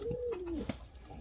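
A single soft coo from an Indian fantail pigeon, close and fairly quiet, one short drawn-out call with a slight drop in pitch.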